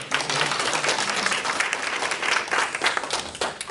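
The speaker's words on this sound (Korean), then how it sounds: "다시 한번 박수로." Steady audience applause at a public forum on a city ordinance in Uiwang, South Korea, dense, even clapping filling the room for several seconds with no speech over it.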